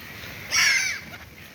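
A raven gives a single harsh, somewhat muffled caw with its beak full of food, outdoors and close by, lasting about half a second against quiet surroundings.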